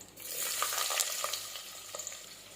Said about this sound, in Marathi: व्यवस्थित असं फ्राय करून घ्यायचा कांदा